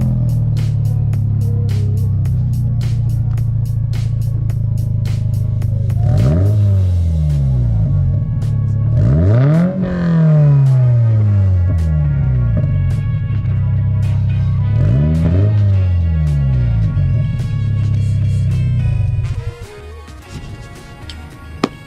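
A car fitted with an HKS Hi-Power racing exhaust revs repeatedly over a steady idle, three rising and falling blips spaced several seconds apart, loud and close, before the engine cuts off.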